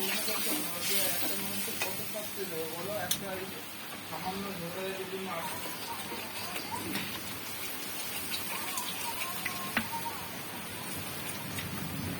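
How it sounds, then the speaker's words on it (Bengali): Food being stirred in a sizzling pan after water is added, with a steady frying hiss and scraping throughout while people talk over it. "এইভাবে জল দিয়ে নাড়াচাড়া করে এবার ঢাকা দেবো।"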